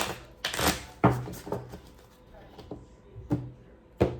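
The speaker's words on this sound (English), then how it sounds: "I pre-shuffled all my cards, so I'm not going crazy with the shuffling." Tarot cards being shuffled close up in a series of quick riffling bursts with brief pauses between them.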